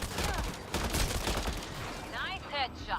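Video game gunfire from Mass Effect Andromeda crackles in rapid bursts through the mix, with a player talking over the shots and a few sharp electronic effects near the end.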